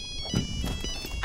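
The classic Nokia ringtone playing in the video game OutRunners, a bright electronic melody of quick tones heard alongside busy game sound, with no talk over it.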